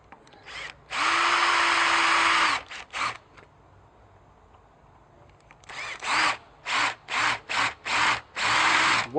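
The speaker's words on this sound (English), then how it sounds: "And now we drill a hole through the centre of the tag." A power drill bores through a handmade rope tag in short bursts, whining loudly at high speed with brief pauses and a quieter stretch in between.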